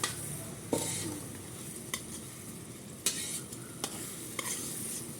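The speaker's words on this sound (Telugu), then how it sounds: "పేస్ట్ అంతా ఫ్రై అవుతుందండి" Spice paste frying in a hot pan, a close steady sizzle punctuated by five or six sharp scrapes and knocks of a spoon against the pan at irregular intervals.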